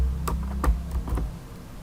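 Four short, separate keyboard clicks, close and fairly crisp, like a quick Ctrl+C then Ctrl+V copy-and-paste, with no other sound around them.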